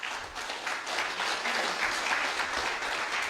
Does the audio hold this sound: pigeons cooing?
no